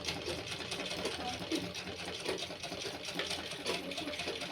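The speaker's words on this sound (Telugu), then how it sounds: "చిన్నగానే లేట్ అయినా పర్లేదు, నెక్ డిజైన్ వరకు చిన్నగా కుట్టండి." Sewing machine slowly stitching the neckline of a boat neck blouse, a steady moderate-volume mechanical whir with fast needle rattle running throughout, no voices heard.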